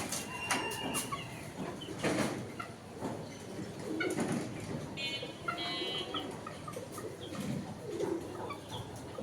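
Chickens and roosters kept in a cage on a rooftop garden, with repeated clucks, coos and chirps close by over a busy outdoor background, no speech.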